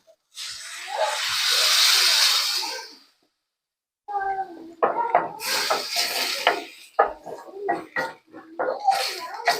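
A loud burst of sizzling hiss as water is added to a hot pan of garlic and mushrooms lasts a couple of seconds, then stops; after a pause, clattering and bubbling noises follow in uneven bursts.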